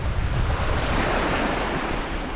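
Rough, choppy open water slaps and churns against a fishing boat while strong wind of 20 to 25 mph roars across the microphone, a dense, constant wash with no pauses.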